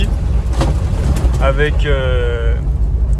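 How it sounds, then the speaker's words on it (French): An Opel Frontera with a 2.0-litre DTI diesel engine idles in a steady low rumble that runs under someone talking throughout. "Ça c'est le moteur 2 litres de DTI"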